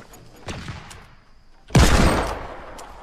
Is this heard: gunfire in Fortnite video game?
yes